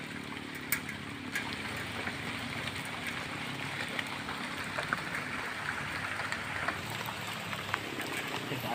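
Rain falls at Lake Leonard in the mountains of New Leyte, Maco, a steady soft patter and hiss with scattered drops, fairly faint and continuous.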